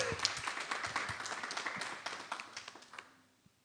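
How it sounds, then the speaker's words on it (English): Applause from the audience at a human rights dialogue event: a burst of many hands clapping together that gradually fades out toward the end. "Can we have a round of applause?"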